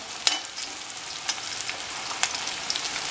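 Capsicum and onion fry in a pan for chilli chicken, a steady crackling sizzle with scattered pops and stirring scrapes, close and free of talk.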